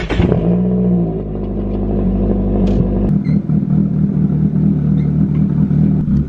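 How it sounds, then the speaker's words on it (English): A Nissan S13 engine cranks and catches within the first second, then settles into a loud, steady idle rumble that continues to the end, with no talking. "now we should be able to start the car up"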